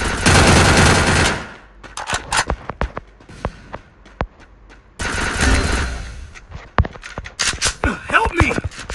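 Automatic gunfire in the mobile shooter Free Fire sounds in loud sustained bursts and sharp single shots, with brief gaps between engagements and a voice talking in between.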